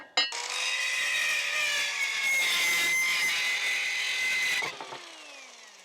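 A power saw cuts through a wooden board for a table build, a steady and loud whine that lasts about four and a half seconds before spinning down, with a brief knock at the start and no voices.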